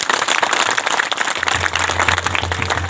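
Audience at a Sarna community gathering in Gumla breaks into loud, sustained clapping, dense and continuous throughout with a low steady hum beneath.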